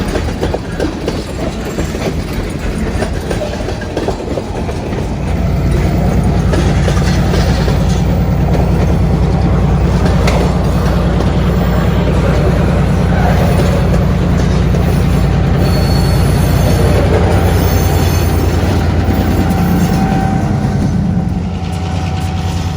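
Freight train pulling empty tanker cars for a pickup at a mainline switch, loud and close, with rumbling wheels, rhythmic clickety-clack and a brief squeal as the cars roll past.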